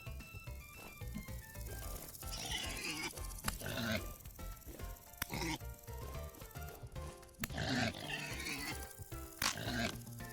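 Pig grunting in the video game Vintage Story, repeated short oinks and snorts scattered over a melodic background music track, close and moderately loud.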